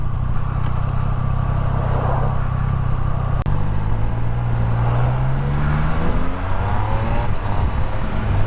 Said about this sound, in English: Usual Friday afternoon traffic.